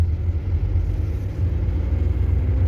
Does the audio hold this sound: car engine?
yes